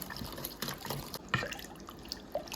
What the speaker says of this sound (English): So I keep whisking.